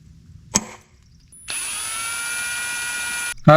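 A power drill whines at a steady high pitch for about two seconds after a sharp clank, then stops abruptly before another metallic clatter as the drill bit breaks off in a motor mount bolt.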